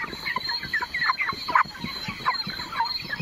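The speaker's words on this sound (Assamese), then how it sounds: "দেখা পাইছে মুৰ্গীবিলাক" Broiler chickens on a farm cluck and chatter in a dense, continuous chorus of short calls at moderate loudness, close by, with no one talking.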